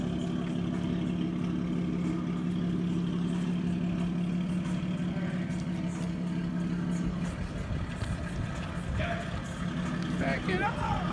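A big-turbo BMW 335i E92 engine runs with a steady, droning idle for about seven seconds, then its tone shifts and roughens. Faint voices talk in the background.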